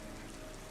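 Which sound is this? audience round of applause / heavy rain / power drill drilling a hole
heavy rain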